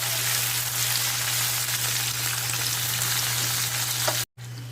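Tomatoes sautéing in an oil-filled pan for matar paneer, a steady close sizzle and crackle running throughout with a low hum beneath, cut off briefly near the end.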